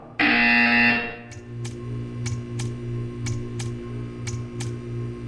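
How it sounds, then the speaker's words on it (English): A loud buzzer from the video game Portal 2 blares for about a second. It is followed by a row of sharp, evenly spaced clicks over a low steady hum and tonal drone. "You will hear a buzzer. When you hear the buzzer, stare at the art."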